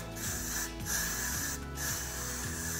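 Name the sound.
spraying a coat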